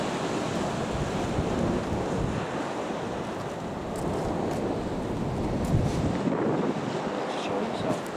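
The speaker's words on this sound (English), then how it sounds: "We'll let people listen to the sea, it's just nice like this." Sea waves roll continuously onto the shore at Blackpool, a steady broadband surf wash mixed with gusting wind buffeting the microphone, with no voices.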